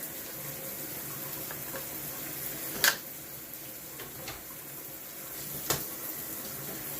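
Running shower water pours steadily while someone rinses their face, a continuous close hiss broken by a couple of brief splashy bursts.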